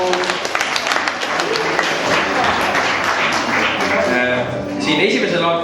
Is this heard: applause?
yes